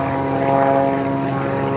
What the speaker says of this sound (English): That airplane now is flying below normal stall speed as he's taking advantage of thrust vector.